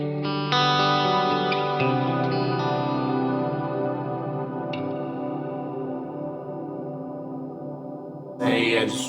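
A guitar through an effects unit rings out with bright, modulated reverb, sustained chords shimmering and slowly decaying over several seconds before a brief louder burst at the end.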